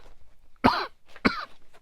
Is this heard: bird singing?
no